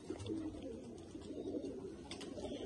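Pigeons, a pair of motion breed birds, coo in low, throaty rolling calls close by, continuous over a faint background of room noise.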